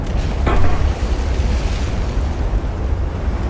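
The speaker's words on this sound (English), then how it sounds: "Ammo detonation, we just missed it, but this is going to go down now immediately" A warship's ammunition detonates in the naval video game Ultimate Admiral Dreadnoughts: a loud, deep explosion bursts near the start, then a low rumbling roar trails on for several seconds without letting up.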